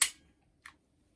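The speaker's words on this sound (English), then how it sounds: "Dry fire the firearm." Two sharp dry-fire clicks from a Canik Mete SFX pistol, a crisp snap at the start and a fainter click about half a second later, close and isolated in a quiet room.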